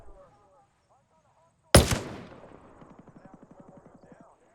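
Gunfire from faction fighting in Ghost Recon Breakpoint: one sharp, heavy blast that rolls off into a long tail, then a faint, fast run of automatic fire some distance away.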